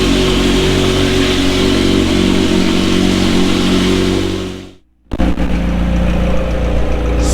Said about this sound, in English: It's a cold start. Oil pressure at the cold start.